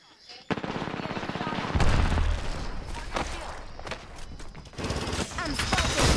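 Apex Legends gunfire crackles in rapid automatic bursts and scattered shots, loud and close, with some impacts and a voice briefly present in the mix.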